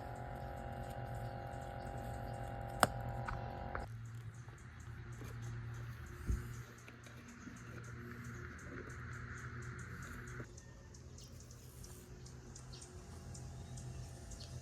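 A garden pond waterfall runs from a pump filtration system after a cleanout, a steady close trickle and splash with a low pump hum, a sharp click partway through and faint birdsong outdoors.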